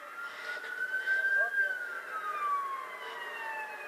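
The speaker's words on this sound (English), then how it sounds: "I'm starting to hear more sirens in this area" A police siren wails faintly in the distance, its pitch rising and falling slowly over steady background noise, during a march in Baltimore.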